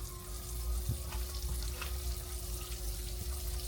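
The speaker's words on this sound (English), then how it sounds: "So we're going to fry them up." Pork chops fry in a hot pan, two at a time, with a steady close sizzle and crackle and a few brief pops, no voices.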